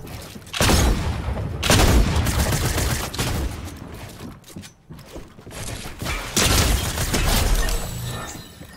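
Shotgun blasts in an arena video game, several heavy booming shots spaced a second or so apart, loud and close, with mechanical clatter between them.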